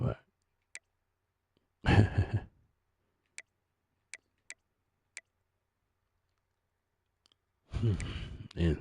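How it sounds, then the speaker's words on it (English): Someone yawns and sighs close to the microphone, one long breathy exhale early on and another at the end, with a few faint clicks in the quiet between. "that yawn is like unstoppable"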